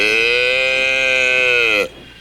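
A single long cow moo, loud and close, holds a steady drawn-out tone for nearly two seconds before breaking off into quiet.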